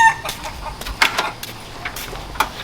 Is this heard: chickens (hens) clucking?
yes